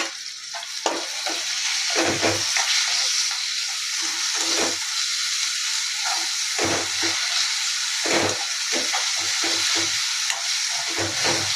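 Chopped tomatoes fry and sizzle in a pan for soybean bhurji, a steady hiss with repeated stirring scrapes coming every second or two, loud and close throughout.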